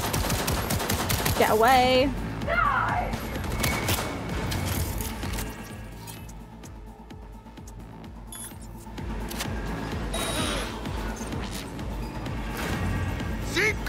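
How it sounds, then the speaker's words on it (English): Gunfire from the video game Cyberpunk 2077, aimed at the player: bursts of shooting crackle through the opening seconds and return in rougher clusters later, with voices talking over the action. "Who's shooting me?"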